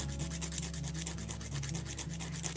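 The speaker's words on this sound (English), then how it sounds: "you want to break that shell using a sandpaper or an emery board and just rubbing till you break through" A hard moonflower seed is rubbed against sandpaper, making a quiet, rapid back-and-forth scratching at close range, repeated in a steady rhythm over a constant low background hum.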